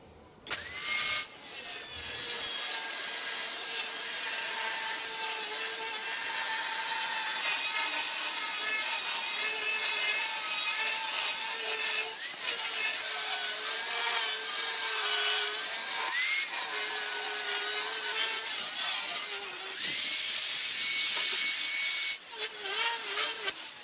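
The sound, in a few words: cutting sheet metal for a sheet metal bender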